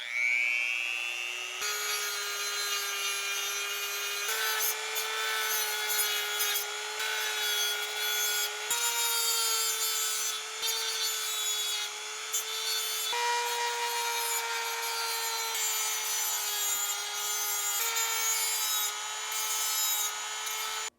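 Continuous high whining grinding as Shimano brake posts on a Surly Troll touring bike frame are shaved down, a steady tonal drone with brief dips and restarts throughout.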